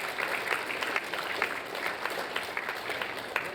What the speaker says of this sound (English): Give Monica a big round of applause.